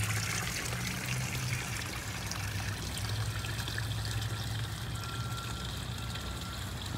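Water trickles steadily into a flower pot in a koi pond aquaponics setup, a continuous soft splashing and dribbling that stays close and even throughout, with a low outdoor hum beneath.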